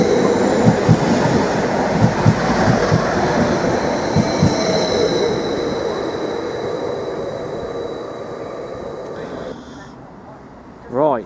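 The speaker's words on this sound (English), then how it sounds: "10:35 service to Cambridge, now about to arrive into platform 2. This service is being worked by 755334." Class 755 FLIRT passenger train pulling into a platform at Stowmarket station, loud close rumble with rhythmic wheel clicks over rail joints, slowly fading as it comes to a stop, with a brief squeal near the end.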